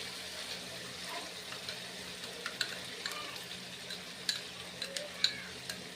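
Curd stirred into frying spice masala for doi potol, a quiet low sizzle of oil with soft scraping and a few light ticks of a spoon against the pan, faint and close.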